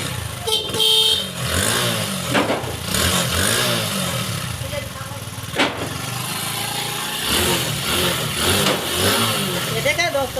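A motorcycle with a low charging current and a suspected rectifier fault starts and revs, its engine running steadily and loudly for the whole stretch with a rise in revs, while someone talks over it.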